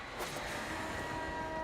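Tram rumbling along in the video game Warframe, a steady low rolling drone with faint tonal hum, no talk.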